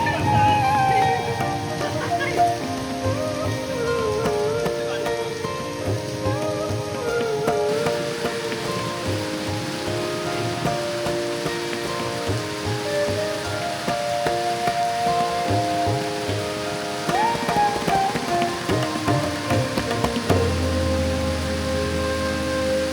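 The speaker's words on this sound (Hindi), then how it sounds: "सो फाइनली काफ़ी इंतज़ार के बाद आज बारिश हो गई" Steady rain falls throughout in a long, even wash of hiss and patter, with a faint tonal sound running underneath.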